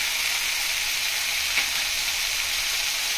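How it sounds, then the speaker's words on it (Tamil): Broccoli and egg sauté in a hot pan for a Tamil-style fry, giving a steady, close hiss of sizzling with one brief stir or scrape midway. "நல்லா வதக்கி விட்டுக்கோங்க."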